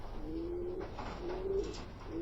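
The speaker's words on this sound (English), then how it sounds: "this is the security camera footage of the birds coming in when they beat me home from the toss" Racing pigeons return home from a 10 km training toss, heard as soft repeated cooing close by, three or four low coos in quick succession over a faint background hum.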